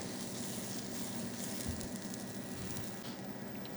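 Brioche French toast frying in a pan after being flipped, a soft, steady low sizzle heard faintly and close by without any talk.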